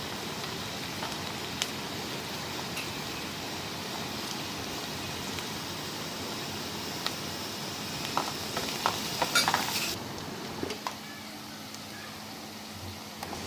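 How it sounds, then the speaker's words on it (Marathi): Chopped onion and garlic frying in a pan for a fish curry, a soft continuous sizzle close by with occasional stirring clinks and scrapes near the end. "त्यानंतर बारीक केलेला लसूण आपल्याला टाकायचा आहे त्यामध्ये."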